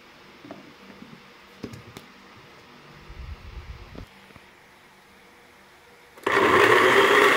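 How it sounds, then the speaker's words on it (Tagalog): A kitchen blender starts up and whirs loudly, blending chopped jackfruit for ice candy. Quieter handling and clatter come first, then the motor runs steady for its final second. "I-blender ko na po itong langka."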